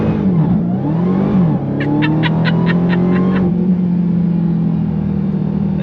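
A 2021 Dodge Charger SRT Hellcat Redeye Widebody, 797 hp, roars as it accelerates hard from about 30 mph, its engine note climbing while the tires spin and squeal; loud, close and continuous, with no talk.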